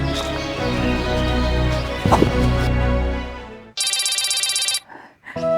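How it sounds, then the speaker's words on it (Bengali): A mobile phone rings with an incoming call, a bright electronic ringtone bursting in loud and close for about a second after a stretch of background music, followed by a short quieter tone. "আমার পুতে ফোন দিছে।"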